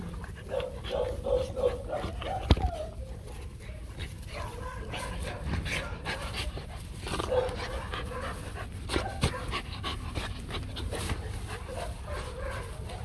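A four-month-old Rottweiler puppy pants rapidly and whimpers while jumping up, with scuffling thumps and a few yips, close by as someone speaks intermittently.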